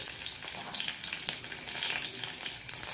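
Garlic, mustard seeds and urad dal fry in hot oil, giving a steady close-up sizzle with fine crackling pops throughout, alone with no voices.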